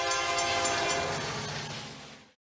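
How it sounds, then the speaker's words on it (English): Canadian Pacific steam locomotive No. 2816, class H-1b, passes Tower 26 in Houston, Texas, with a loud, sustained horn blast over the roar and rumble of the moving train, cutting off abruptly near the end. "CPH-1B steam engine number 2816 makes another appearance on its return trip to Calgary"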